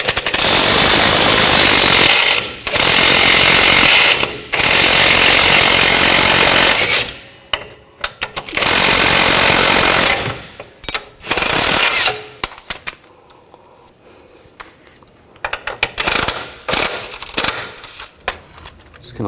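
A 24mm wrench and an 18mm socket work a bolt loose on the rear hub of a 2000-2006 BMW X5, giving several loud, close metallic bursts of clatter with short pauses between, then lighter scattered knocks and scrapes.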